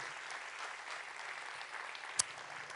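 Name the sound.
audience applause for award winner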